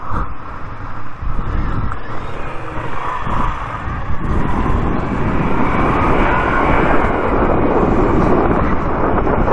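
A Moto Guzzi V7 III Racer motorcycle rides along around Montjuïc, its engine a steady drone mixed with heavy wind rush across the microphone, continuous with no speech.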